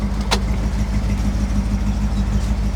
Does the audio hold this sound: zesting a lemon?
no